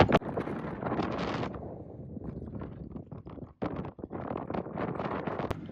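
Gusty wind outdoors near Cedar Point buffeting the microphone, heavy rumbling blasts rising and falling with a few brief lulls, no voices.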